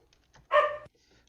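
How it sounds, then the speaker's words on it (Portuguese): A dog gives a single short bark, close and fairly loud, against an otherwise quiet background with faint room noise. "Tem um cachorro bem louco aí."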